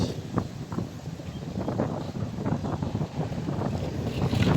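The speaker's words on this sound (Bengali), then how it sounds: "বাতাস" Wind gusts outdoors, buffeting the microphone in a rough, steady rumble that rises and falls for a few seconds with no one speaking.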